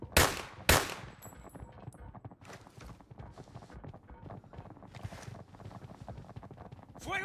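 Gunshots crack out as two sharp, loud reports at the start of an exchange of fire in the shooter game Arena Breakout. Softer scattered pops and footstep-like clatter follow, with faint voices in the background.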